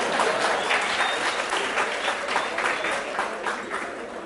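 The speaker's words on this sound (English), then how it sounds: "You are clapping." An audience in a lecture hall claps continuously, a dense even patter of many hands held at steady loudness throughout.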